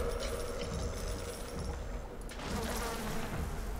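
A swarm of bees buzzes in the video game BioShock, a dense, steady drone that holds for the whole stretch with a slight swell near the end, with no talking.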